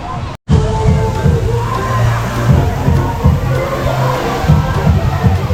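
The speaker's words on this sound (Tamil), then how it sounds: "இந்த ரைடில் ஓரளவுக்கு க்ரௌட் இருக்குங்க." Crowd at a busy water park ride, a dense roar of voices, shouts and splashing water filling the whole stretch after a brief dropout near the start.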